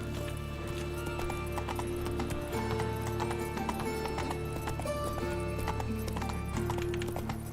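A horse gallops in The Witcher 3, its rhythmic clip-clop hoofbeats steady and close throughout over a continuous musical score.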